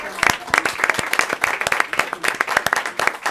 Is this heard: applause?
yes